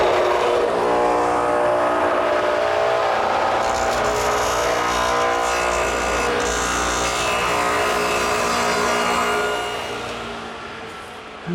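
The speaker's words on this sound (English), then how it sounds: "I've set up the radial with a stacked dado head cutter, about 5/8 of an inch in width" A radial arm saw fitted with a stacked dado head about 5/8 inch wide plows out a half-lap joint, a loud continuous whining roar with grinding cut noise throughout, easing off near the end.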